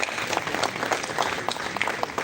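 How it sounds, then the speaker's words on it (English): An audience at a public presentation applauds steadily, dense clapping from many hands filling the room without pause, moderately loud throughout. "Please, let's give him another loud round of applause."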